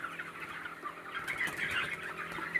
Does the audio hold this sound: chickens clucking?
yes